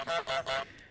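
Three quick, nasal goose honks in a row from Untitled Goose Game, close and loud, then a brief fade.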